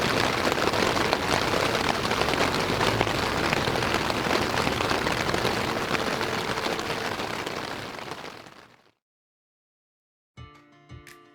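Steady, dense rain pours at night in Norway, a loud continuous patter that fades and cuts off near the end, followed by a short burst of other noise.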